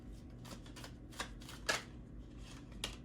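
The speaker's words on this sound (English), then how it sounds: "Let me think on that one while I shuffle." Tarot cards being shuffled by hand, soft papery riffles and slides in quick irregular bursts with a few sharper flicks, close and quiet in a still room.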